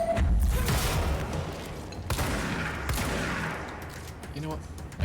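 Shotgun blasts in the video game Control, heavy booming shots with crashing impacts in quick succession, loud and close, with someone talking over the gunfire.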